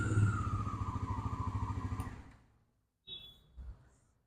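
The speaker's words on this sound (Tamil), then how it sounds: "இப்போ இன்ஜினை நான் ஸ்டார்ட் பண்ணுறேன் பாருங்கள்." A 2024 Bajaj Pulsar NS400 motorcycle engine runs with a close, even, pulsing idle that fades out after about two seconds, followed by a couple of short mechanical clunks.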